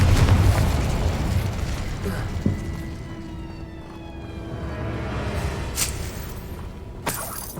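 A Confringo explosion spell going off in a Harry Potter wizard video game: a heavy rumbling blast at the start that fades into a ringing, shimmering tail with sparkling crackles and a couple of sharp bursts later.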